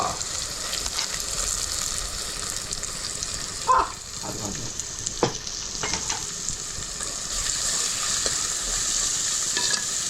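Onion fries in a pan with a steady, close hiss and sizzle while a utensil stirs it, scraping and clinking now and then, with no speech.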